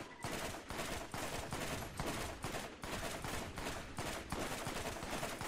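Sustained gunfire in the Borderlands video game, dense repeated shots in regular bursts that stay loud and unbroken for the whole stretch, with no voices.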